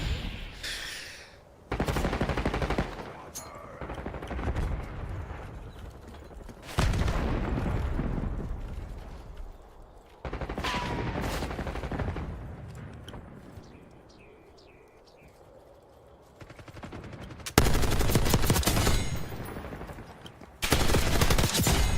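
Heavy gunfire in the video game Call of Duty arrives in loud bursts of rapid automatic shots and booming blasts, separated by quieter stretches of ambient battlefield noise.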